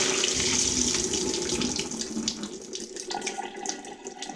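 Tap water runs steadily into a bowl of rice being rinsed to wash off the starch, a close, continuous splashing stream with no talk over it.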